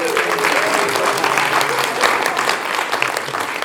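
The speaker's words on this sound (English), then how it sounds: "Round of applause." A room full of people gives a loud, sustained round of applause for a former public speaking champion at a university competition, dense clapping throughout with a voice faintly underneath.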